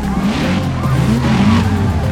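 Loud tire squeal from a car launching off the line with tire smoke in the Forza Street racing game, a continuous skidding screech over engine roar, with a voice talking over it.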